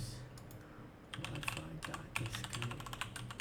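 Keys tapped on a computer keyboard while setting up a MicroPython Wi-Fi connection, a quick irregular run of close, crisp clicks that starts after a short pause and carries on steadily to the end.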